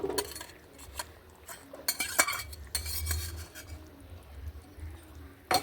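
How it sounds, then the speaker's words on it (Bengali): A metal spoon stirs fish curry with green chilli and garlic paste in a pot, giving scattered scrapes and light clinks against the pan over a faint simmer, fairly quiet and close. "এখন নাড়াচাড়া করে প্রায় 2 মিনিটের মতন জাল করে নেব"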